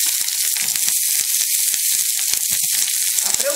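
Peeled, halved shallots fry in a pan for a chana dal chutney, giving a continuous loud, close sizzle with small popping crackles throughout.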